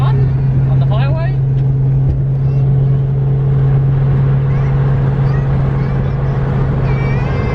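Nissan car with an 8.6 engine cruising on a highway, a steady loud low engine drone and road roar holding constant throughout, with faint higher squeaks and whines over the top.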